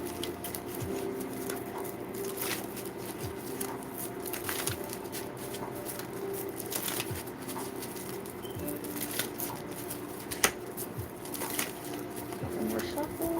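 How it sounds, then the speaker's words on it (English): A deck of tarot cards being shuffled, soft repeated riffling and patting of cards throughout, with a few sharper card snaps, close by and fairly quiet. "Let me shuffle real quick."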